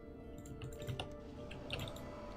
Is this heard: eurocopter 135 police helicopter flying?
no